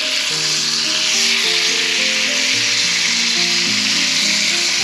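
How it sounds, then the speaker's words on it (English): Bluefish frying in a pan of hot oil, a loud, steady sizzle and crackle filling the whole stretch, with faint tonal hum from a range or kitchen appliance underneath and no one talking. "Frying up real nicely."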